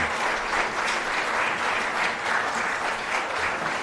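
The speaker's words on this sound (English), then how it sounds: "round of applause for me" A round of applause from the crowd at an award ceremony, steady, even clapping throughout with no talk over it.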